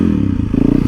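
Motorcycle engine revving steadily as a winter ride gets underway, a loud close rumble with rhythmic pulsing throughout the second.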